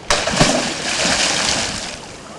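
A weighted sack holding a trap on a cable is thrown into deep water, landing with a sharp close splash followed by a couple of seconds of sloshing and bubbling.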